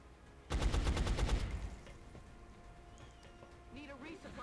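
Suppressive gunfire in XCOM: a loud, rapid burst of automatic shots lasting about a second, then fading into quieter game ambience and faint background tones.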